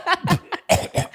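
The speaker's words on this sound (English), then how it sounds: "That was such a convincing fake cough." A couple of short, forced coughs from a person faking it, quick close bursts in a staccato rhythm.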